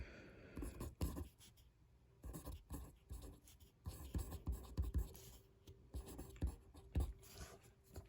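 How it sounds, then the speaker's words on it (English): Pen writing on paper during a math calculation, close and quiet: irregular scratchy strokes and taps come in short bursts with brief pauses, with no talking. "Let me just write that on paper."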